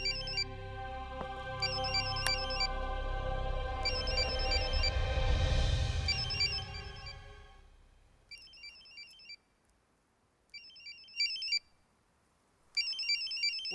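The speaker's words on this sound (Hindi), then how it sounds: "कोई फोन बज रहा है।" In a Hindi film scene, a phone rings with repeated electronic trill bursts, first under a swelling musical drone, then alone in short, evenly spaced rings after it fades.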